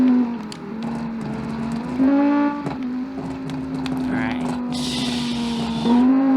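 A rally car in a racing video game tears through a river rally stage, its engine holding a steady, close drone with brief rises in revs and a hissing burst of tire or gravel noise near the end.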